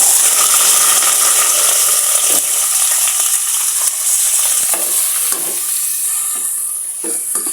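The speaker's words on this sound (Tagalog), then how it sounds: "luto na yung sibuyas tsaka bawang, pwede na natin isunod yung nagayat na laman loob ng ano." Chopped innards sautéed with onion and garlic in a hot pan for papaitan, giving a loud, steady, dense sizzle throughout with occasional scrapes and stirring clinks.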